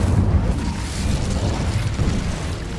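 Incendio fire spell cast in Hogwarts Legacy gameplay, a loud rumbling burst of fiery whoosh with a dense low roar throughout and no talking.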